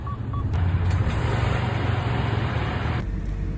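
A Mercedes Actros truck, just freed from brakes locked on, drives slowly around a yard. Its engine gives a loud, broad, steady roar, with a couple of short reversing beeps at the start and a sudden drop in level near the end.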